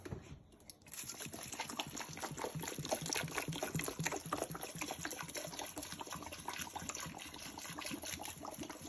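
Water poured into a pot holding lemongrass for bissap, a continuous close splashing trickle that starts after a brief pause and runs on steadily with no talk.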